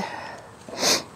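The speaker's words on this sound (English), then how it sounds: "I am sorry about all my sniffling" A single close sniffle from allergies, a short breathy nasal intake rising near the end, with faint background before it, during beehive work.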